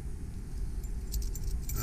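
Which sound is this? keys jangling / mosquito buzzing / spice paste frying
keys jangling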